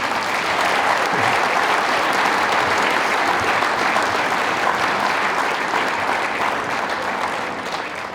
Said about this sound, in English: Could we please have a round of applause for all of our winners?